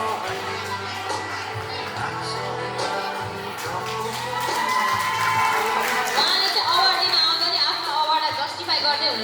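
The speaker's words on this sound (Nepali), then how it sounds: "उहाँको लागि सबैले जोरदार ताली बजाऊ" Audience at an anniversary dance program applauds and cheers for an award winner, a sustained crowd roar of clapping and shouts that swells louder toward the end, with a high whistle-like tone joining in.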